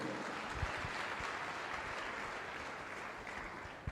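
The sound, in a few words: applause for God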